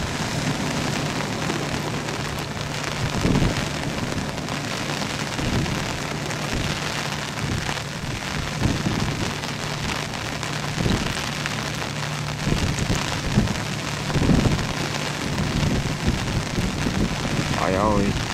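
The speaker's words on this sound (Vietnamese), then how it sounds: "Mưa ngoài kia là mịt mù luôn các bạn." Heavy rain lashes down during a storm at sea, a loud continuous wash of water noise with repeated dull thuds and bursts from waves and the boat, as voices talk over it.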